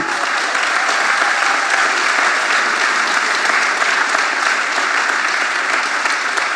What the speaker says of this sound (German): das hat in der Tat einen Applaus verdient